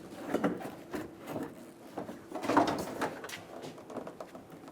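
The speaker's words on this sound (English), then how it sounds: "Grab the corner of the bumper. Pull straight out. Should unclip." The front bumper corner of a 2005–2015 Toyota Tacoma is pulled straight out until it unclips: a series of close plastic scrapes and rubbing creaks in uneven pulses, with no speech.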